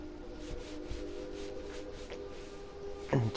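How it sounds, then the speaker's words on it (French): A sponge rubs steadily over a Royal Enfield motorcycle in a video game, a soft continuous scrubbing under a low background hum, ending with a brief louder scrape. "Un petit coup d'éponge pour lui donner un état de neuf"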